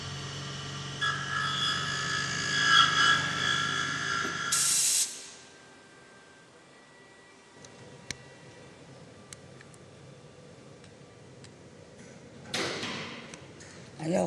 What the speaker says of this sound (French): on appelle ça de l'ébarbillage. C'est-à-dire qu'on enlève les bavures après une opération de fraisage.